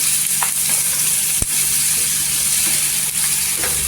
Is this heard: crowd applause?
no